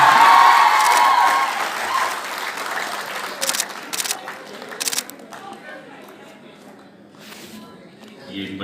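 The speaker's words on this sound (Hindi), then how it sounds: "आप स्टूडेंट्स की तरफ से जोरदार तालियां होनी चाहिए।" Students applaud loudly at a road safety closing ceremony attended by a Lieutenant Governor, dense clapping at first that thins into scattered bursts, with camera shutter clicks and a voice over the hall.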